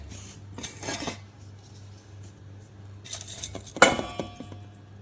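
Ground rice powder is emptied from a mixer jar into a bowl in a home kitchen, with faint scattered clinks and one sharp metallic clatter of jar and utensil against the bowl, quiet and close.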